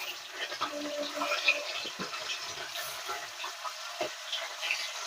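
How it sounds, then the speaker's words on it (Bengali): Amudi fish slid into hot oil in a pan, giving a soft, steady sizzle and bubbling with light crackles, fairly quiet and close, with no voices. "তেলটা গরম হয়ে গেছে, এবার আমরা মাছগুলো দিয়ে দেবো।"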